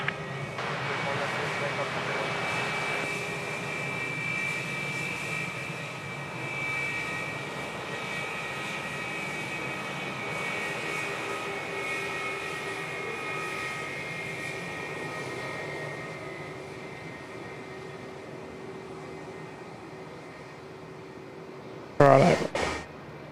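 A Cathay Pacific jet airliner takes off at Sydney Airport, a steady broad jet roar holding for about twenty seconds before fading, with voices talking over it and a brief sharp clatter near the end.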